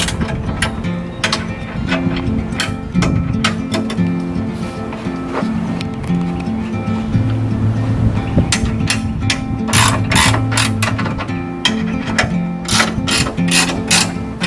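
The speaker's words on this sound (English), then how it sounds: "I'm going to go ahead and use a regular wrench right away to tighten it up first" Regular wrench tightening bolts on an Anderson trailer hitch, a run of close metallic ratcheting clicks and clanks in irregular bursts, loud, with some faint background noise and no talk.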